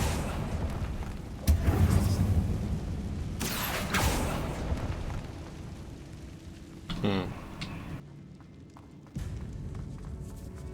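Incendio fire spell cast in Hogwarts Legacy, a sudden whooshing burst of flame followed by crackling and later a second sharp magical swoosh, moderately loud amid ambient game sounds.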